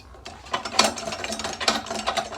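A wobbly, broken stool with loose, stripped Allen bolts rattles and clicks as it shifts, giving quick irregular metallic knocks and creaks close to the microphone with no talking.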